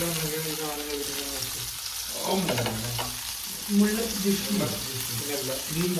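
Food sizzles and fries in hot oil while being stirred, with running water and clinking nearby and faint voices in the background.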